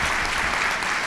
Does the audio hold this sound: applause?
yes